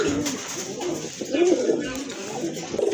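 Soft, low coos of Lahori pigeons rise and fall repeatedly close by, a gentle throaty warble continuing throughout.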